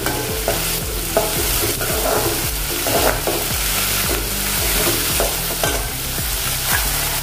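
Finely chopped onion for chole masala frying in a pan, a steady close sizzle with repeated stirring scrapes and knocks in an irregular rhythm, with no voices.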